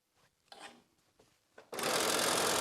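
A sewing machine stitches binding onto a quilt: a few soft taps and short bursts, then a sudden loud, continuous whirring run of the machine at close range.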